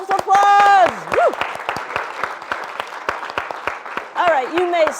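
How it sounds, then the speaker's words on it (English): An audience at an improv workshop claps for itself, dense close applause throughout, with whoops and loud cheering voices rising over it at the start and again near the end. "All right, give yourselves applause"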